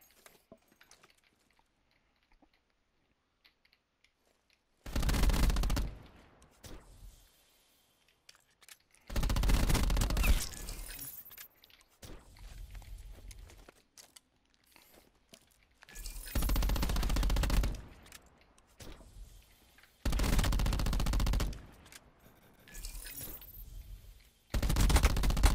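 Bursts of rapid gunfire from the shooter game Call of Duty Black Ops 4, loud and close, coming in about five separate volleys of one to three seconds each, with near-silent gaps between them.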